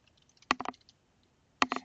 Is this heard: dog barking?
no